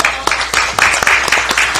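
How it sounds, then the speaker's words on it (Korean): A room at a Democratic Party leadership meeting gives applause welcoming the party leader back, with close, uneven, loud claps in irregular bursts and some voices over them. "박수도 쳐드려야 되는데 한번 안 했죠."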